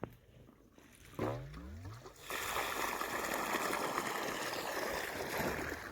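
At a wheat field, a quiet stretch and a rising mechanical whine from the pump motor give way to a steady, loud rush of irrigation water pouring into the field.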